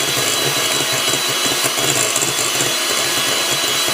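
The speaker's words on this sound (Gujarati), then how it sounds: "એની અંદર 1 ઈંડું નાખશું ને એને આપણે ફાઇન રીતે બીટ કરશું આવી રીતના" Fast rattling and scraping of a single egg being beaten for banana bread batter, a dense continuous clatter that stays loud and close throughout, with no voices.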